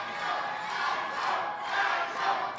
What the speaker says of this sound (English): Pharaoh can't believe the whole crowd is chanting for Nitro